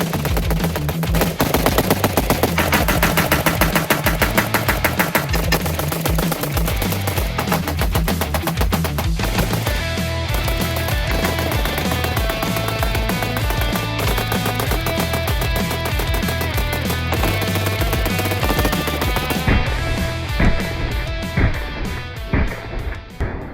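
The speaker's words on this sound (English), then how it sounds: "Looks like someone left this rusty old AK in the garbage. Let's run it." Sustained bursts of loud, rapid gunfire from a rusty Romanian MD63 AK rifle at a range, firing almost continuously with dense, sharp reports.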